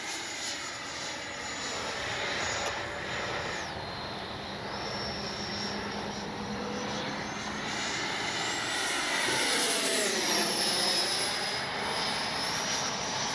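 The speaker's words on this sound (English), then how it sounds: "Man, what a sweet flying jet." A Freewing 90mm T-45 RC model jet flies overhead with a continuous high-pitched electric ducted-fan whine that rises and falls as it passes, growing louder and sweeping in pitch as it banks close by.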